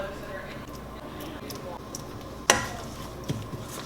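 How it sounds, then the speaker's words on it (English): Mustard seeds, cumin, dried and green chillies and curry leaves sizzle in hot oil as a tempering for sesame rice, a steady crackling hiss with a few sharp pops. "Alright, I'm going to saute that for a little while."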